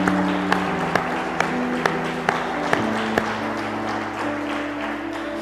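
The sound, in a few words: church congregation applauding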